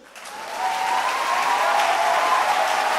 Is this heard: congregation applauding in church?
yes